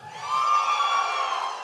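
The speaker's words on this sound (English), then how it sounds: "Yeah, we can cheer that." Audience at the AVCon 2026 cosplay competition cheers and whoops for the skit division, a sustained crowd roar that swells quickly and holds loud and steady throughout.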